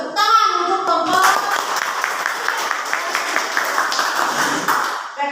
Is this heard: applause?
yes